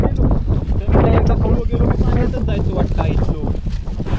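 Stormy wind and heavy rain lash the water during a traditional fishing trip on the Konkan coast, with waves rising like the sea; a steady, loud roar of wind buffeting the microphone fills the scene throughout.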